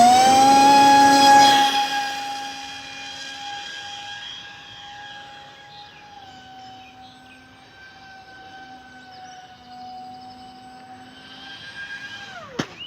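A radio-controlled model plane's engine whines steadily in flight on a sunny day, loud at first and then holding a sustained tone at moderate distance, with a sharp pitch drop and a brief surge near the end.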